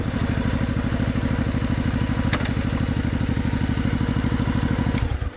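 A vehicle engine idles steadily and loudly nearby, with a fast, even mechanical chug throughout and no voices.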